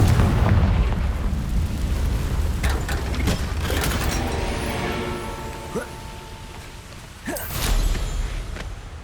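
A Confringo spell explosion in Hogwarts Legacy opens with a loud, rumbling boom that decays over several seconds, followed by a sharper burst near the end.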